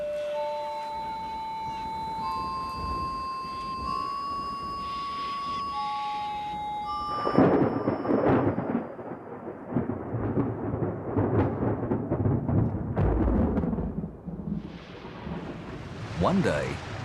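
A thunderstorm breaks a drought in the Australian outback, with rumbling thunder and heavy rain crashing in suddenly after a stretch of high whistling tones, then rolling on loud and dense with another swell near the end.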